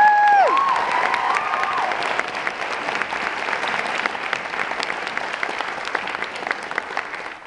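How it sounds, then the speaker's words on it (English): An audience at a live talk breaks into sustained applause: dense, continuous clapping with a little cheering that starts loud and gradually eases. "We can applaud for Esther."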